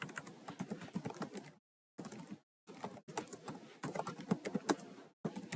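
Close, brisk typing on a computer keyboard, with rapid clustered keystrokes in several bursts separated by short silent pauses.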